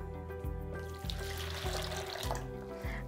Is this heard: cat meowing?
no